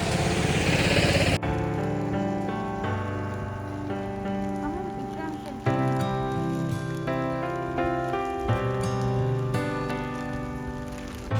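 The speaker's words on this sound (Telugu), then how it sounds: "వర్షం అయితే కంటిన్యూస్గా పడుతుంది, ఆగుతుంది" Steady rain pours down during a road trip, a constant hiss of drops on surfaces; after the first second a loud tonal layer with shifting notes rides over the rain and continues to the end.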